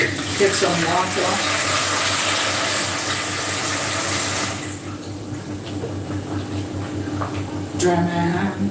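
Water runs from a kitchen tap into a sink as a bowl is washed, making a steady close rushing stream for about half the clip that then eases into softer splashing and trickling.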